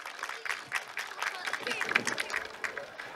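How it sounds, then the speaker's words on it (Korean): Scattered clapping from a festival crowd at the Bongsutgol flower outing festival's Miss & Mister trot contest awards, as a National Assembly member is welcomed; uneven claps mixed with nearby voices and crowd chatter. "박수 부탁드립니다"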